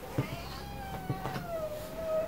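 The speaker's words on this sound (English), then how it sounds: "Oh, my cat wants to say hello." A house cat meowing in a kitchen where a rectangular teal drip cake topped with strawberries and macarons is being decorated: two short close meows, then a longer drawn-out mew, with no talking.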